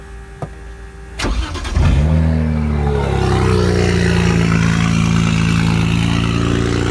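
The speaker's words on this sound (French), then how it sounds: "c'est une pompe électrique" An electric pump starts with a click and a rising whir, then settles into a loud, steady mechanical hum that continues without a break.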